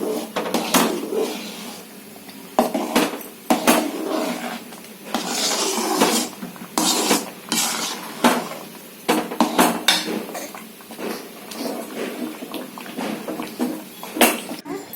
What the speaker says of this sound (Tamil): இத முந்திரியும் திராட்சையும் நெய்ல வறுக்கிறாங்க.